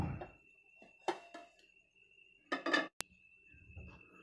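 Potato pizza tipped out of the pan onto a metal plate and flipped over, giving a few scattered metallic clatters and scrapes, including one sharp clink, separated by quiet gaps.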